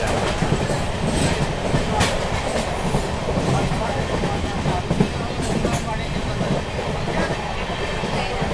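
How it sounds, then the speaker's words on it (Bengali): Express train rushing past close alongside a speeding superfast train near Shaktigarh station, steady loud rolling rumble with clickety-clack wheel beats throughout. "আর পাশ থেকে একটা এক্সপ্রেস ট্রেন পাশে যাচ্ছে।"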